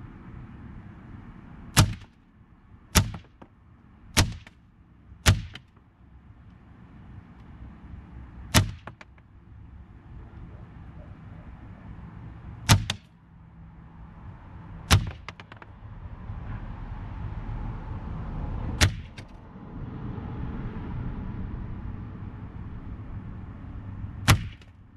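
A semi-auto Benjamin Marauder .22 PCP air rifle fires about nine sharp, loud cracks, a quick cluster early on and then more widely spaced shots, with a quiet background between them.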